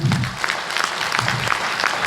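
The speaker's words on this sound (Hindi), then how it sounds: "2 ताली बजाइए सब पेरेंट्स के लिए।" An audience at an Eduteck anniversary event applauding for parents, a burst of many hands clapping in quick irregular patter, moderately loud.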